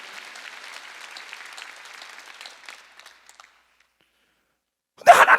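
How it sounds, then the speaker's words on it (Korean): Applause from a church congregation at a Sunday healing-gifts service fades out over several seconds, then after a pause a sudden, louder burst of clapping breaks out near the end. "박수야."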